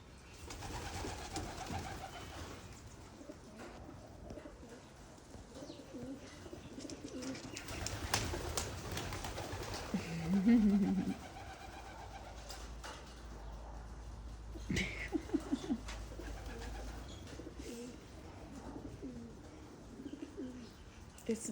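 Pigeons being fed bread alongside sparrows and crows coo softly and repeatedly amid scattered chirps, wing flutters and light background noise, with a louder coo burst near the middle.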